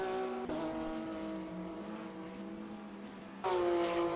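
A GT3 race car at Road Atlanta rolls down pit lane, its steady engine drone held at a limiter-like pitch with a sharp rise in revs near the end, loud and close throughout.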